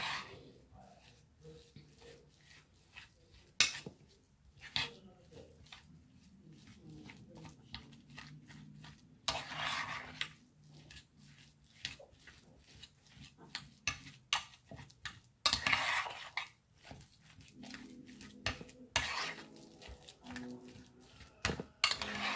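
Homemade exfoliating lemon soap mixed with crushed rice being stirred in a bowl, faint scraping and clinking of the utensil against the bowl in an uneven rhythm of taps and scrapes.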